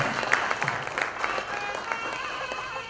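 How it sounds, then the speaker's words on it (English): Audience at a ceremonial lamp-lighting (Kuthuvelakku) event gives a round of applause, steady dense clapping from a crowd throughout, moderately loud with a few sharper claps standing out. "a big round of applause, a symbolic start."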